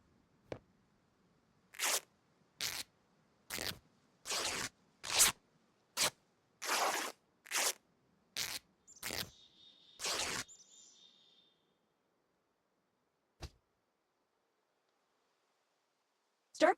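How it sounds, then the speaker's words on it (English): A run of about a dozen short, sharp tearing bursts in a steady rhythm as equipment is cut into rags in a video game, followed by a brief electronic tone, then near silence broken by two isolated clicks. "Find some rags or cut some of your equipment to acquire them."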